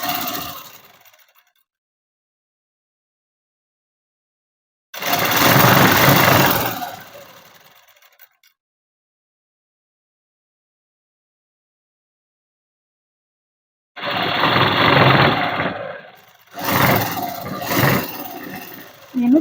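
A sewing machine stitching a dress made from an old saree, close and loud in three short bursts of rapid whirring separated by long silences.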